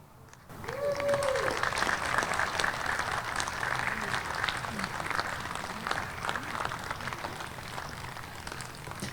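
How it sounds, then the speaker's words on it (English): Outdoor audience at a plaza dedication applauding Margaret Hamilton, steady sustained clapping like rain that starts suddenly and holds for the whole stretch, slowly easing off, with a few voices faintly under it. "please give a round of applause for Margaret Hamilton"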